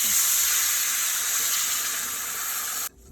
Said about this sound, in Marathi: मसाला संपूर्ण भाजला गेला की आता त्यात थोडंसं पाणी टाकायचं